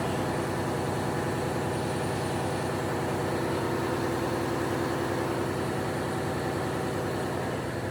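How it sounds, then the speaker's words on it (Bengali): Engine of a passenger river launch heard in its engine room, a loud continuous low throbbing drone with a steady rapid pulse throughout, no voices. "এই ইঞ্জিন"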